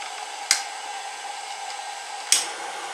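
Steady whirring cooling fan on a Tegstove camp stove, running continuously at close range, broken by two sharp clicks, with no talk.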